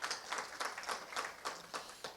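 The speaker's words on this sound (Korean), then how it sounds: "교수님께 다시 한번 큰 박수 부탁드립니다" Forum audience giving a short burst of scattered applause for a presenter, faint individual claps in an uneven rhythm, heard from a distance in a hall.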